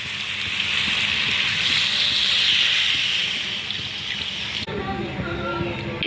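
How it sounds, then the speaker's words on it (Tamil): Water is poured into a pan of sizzling chicken biryani masala, a steady close hiss and bubbling rush that cuts off abruptly near the end, leaving softer bubbling. "இப்போ தண்ணி ஊற்றிக்கலாம்."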